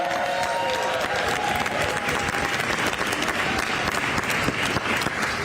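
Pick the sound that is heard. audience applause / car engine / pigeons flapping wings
audience applause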